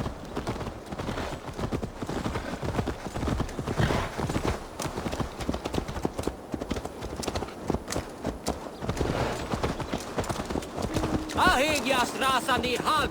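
A horse's hooves clip-clopping in the video game Assassin's Creed Valhalla, a brisk, even run of hoofbeats close by, with game voices and ambience mixed underneath and a brief burst of other noise near the end.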